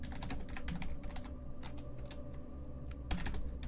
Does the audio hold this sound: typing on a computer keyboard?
yes